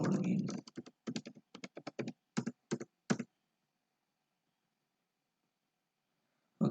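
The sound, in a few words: typing on a computer keyboard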